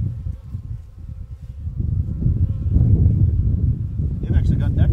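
Honey bees buzzing around an open hive during an inspection, a low steady hum that swells louder partway through, close by, with a person talking over it.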